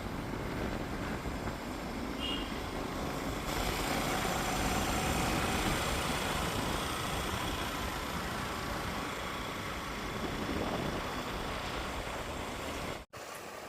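A motorbike carrying three riders runs at night in the rain, its engine giving a steady, continuous drone mixed with road and rain noise that holds throughout and drops out briefly near the end.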